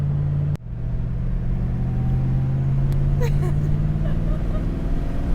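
A Koenigsegg Regera hypercar engine drones in a steady, loud low rumble, heard close up and idling or cruising evenly throughout, while a person talks over it.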